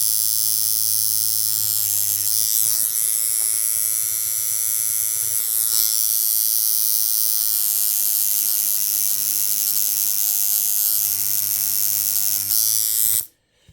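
A steady, high-pitched electric buzz of a tattoo machine runs continuously at close range with a low hum underneath, cutting off abruptly at the end.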